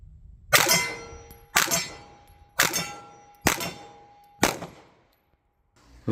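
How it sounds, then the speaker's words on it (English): A pistol fires five shots at a red steel gong 25 yards downrange, each hit giving a sharp metallic clang with a ringing tail. The clangs come about a second apart, followed by a pause and the onset of another. "Gonna try some 25-yard shots at the red gong back there."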